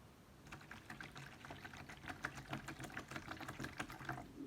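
Water being poured from a measuring cup into a bowl while mixing homemade alcohol wipes, a quiet steady trickling splash with bright spattering lasting several seconds, close by and with no talk.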